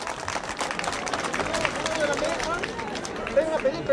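Spectators along the street applaud a Holy Week troop parade in Acolla, Peru. Scattered clapping rises from a chattering crowd, and a few short sharp whistle-like tones come near the end.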